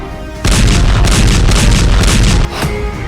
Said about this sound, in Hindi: धमाके का पहला वीडियो